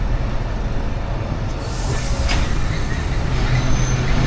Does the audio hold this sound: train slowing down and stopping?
yes